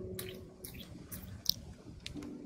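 Boots squelch through mud as a sound effect during a tabletop role-playing game: several soft, wet squishes and drips in irregular steps, close and fairly quiet, with no one talking.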